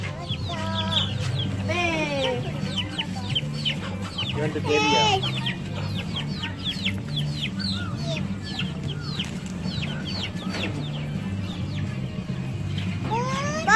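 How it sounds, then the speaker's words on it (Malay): Chickens cluck and squawk steadily, fairly close, at a petting zoo in Gunung Lang, Perak, over a low droning hum, with a few brief spoken words in between. "Bagi makan ayam."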